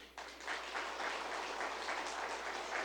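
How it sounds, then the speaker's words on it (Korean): A church congregation claps for a Sunday school minister, a dense even patter of many hands starting abruptly and continuing at a moderate, somewhat distant level. "박수 한번 쳐요."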